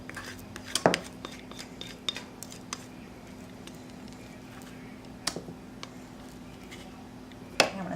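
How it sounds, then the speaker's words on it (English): A spatula scrapes leftover pumpkin bar batter from a mixing bowl, giving soft, close scraping and a few sharp clinks of utensil on the bowl over a quiet kitchen hum, with no talking. "I'm going to get all the rest of that pumpkin out of the bowl"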